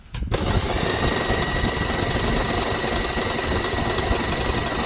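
A Janome HoneyBee sewing machine stitches steadily after its pedal is pressed, giving a loud, continuous mechanical whir and rapid clatter that starts almost at once and runs unbroken, with no voices.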